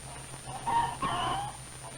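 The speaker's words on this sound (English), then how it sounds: "The big rooster crows right in Tuffy's face." Rooster crowing once, a brief loud cock-a-doodle-doo in a chicken yard, heard from a 1950s radio show recording over faint background hiss.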